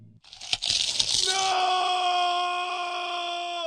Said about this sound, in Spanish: El sonido de los zombies masticando, al mismo tiempo que se escucha el grito del protagonista